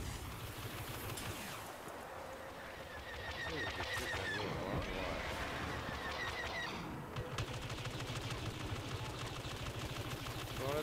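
Rapid blaster rifle fire in Star Wars Battlefront, repeated bursts of shots mixed with game effects and explosions throughout, with a player's voice talking over the action.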